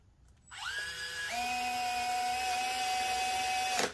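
A cordless driver runs steadily for about three seconds, driving screws into a Onewheel Pint electric board, a close, even whine with a brief start and a sharp cutoff.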